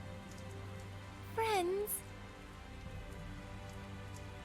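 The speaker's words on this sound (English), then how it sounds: "after we find shelter from the rain, if you please." Steady rain falls in a Tales of Zestiria game scene, a soft continuous hiss throughout with a brief voice speaking over it midway.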